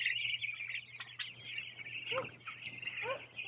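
Chickens clucking and chirping near a patch of grass with water, bought at an auction, giving a steady run of short calls over a low constant hum.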